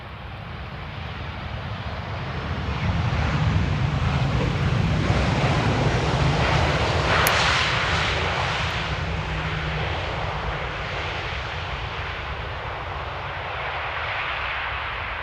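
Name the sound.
Sunweb Boeing 737 airliner arriving in rain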